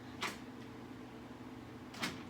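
Front door of a Xerox WorkCentre printer being opened, heard as two short, faint plastic clunks about two seconds apart against a quiet background.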